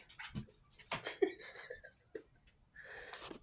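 A pet dog comes over to greet its owner, giving soft, close whimpers and breathy panting in short bursts, with small rustling noises in between.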